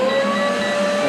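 A vacuum cleaner running on inverter power aboard a trawler produces a loud, steady motor whine with a strong sustained tone and no pauses.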